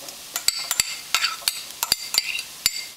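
A utensil stirs carrot and zucchini with garlic in a frying pan for cauliflower fried rice, giving a string of sharp, close scrapes and clicks in an irregular rhythm over a faint sizzle.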